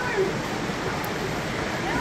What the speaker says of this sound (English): Oh, man, you can hear the water.